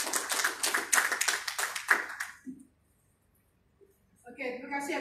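Crowd at a talk on becoming a millionaire giving a burst of brisk, close hand clapping that dies away after about two and a half seconds, followed by silence and then a voice speaking.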